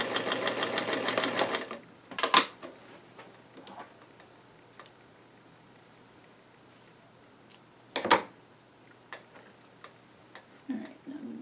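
A sewing machine stitches a seam on tiny doll-sized jeans in a brief loud burst at the start, followed by a few isolated ticks and clicks of the machine and handling.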